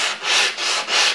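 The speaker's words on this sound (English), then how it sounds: "and I'm just sanding this way." Wood being sanded for a Mosin Nagant PU sniper cheek rest, using a block pressed onto sandpaper laid flat on a bench: four steady back-and-forth rasping strokes, close and even, with no talking.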